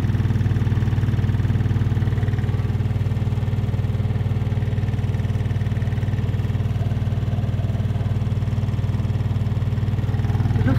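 A Samsung Ecobubble washing machine spins at 1,200 RPM with an unbalanced load, producing a loud, steady low drone with a rapid rhythmic pulsing throb that continues evenly throughout.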